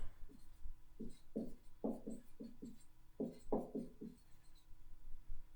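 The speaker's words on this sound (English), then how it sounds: "So let me write that down." Chalk on a lecture-hall board taps and scrapes in short, quick strokes, coming in two bursts of handwriting that are close and clear, with no talking.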